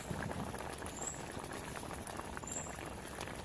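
Sri Lankan fish gravy with fish pieces boiling in a covered pot: quiet, continuous bubbling and fine popping at a steady simmer, with a couple of faint high squeaks.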